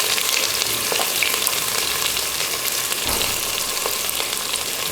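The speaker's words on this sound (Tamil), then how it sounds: "2 பெரிய வெங்காயம் நீல வாக்கில் கட் பண்ணி வச்சுருக்கேன், அதை சேர்த்துடலாம்." Sliced large onions frying in hot oil with whole spices for a vegetable biryani, a steady close sizzle and crackle with faint stirring clicks throughout, no talking.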